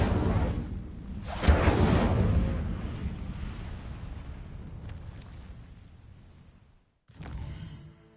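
The Incendio fire spell is cast in Hogwarts Legacy: a sudden whooshing burst of flame flares up, rumbles and fades over several seconds, then cuts to silence before a softer whoosh.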